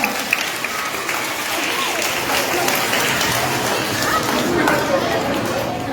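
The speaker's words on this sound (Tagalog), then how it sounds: "Isa pa daw malakas na palakpak" Loud, sustained applause from a crowd of children and adults for a clown performer at a kids' event, with excited chatter and shouts mixed into the clapping.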